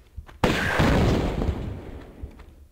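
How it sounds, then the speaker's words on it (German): A sudden explosion in the video game Tomb Raider bursts out loud after a brief lull, then rumbles and slowly fades over a couple of seconds. "Ja, alles explodiert."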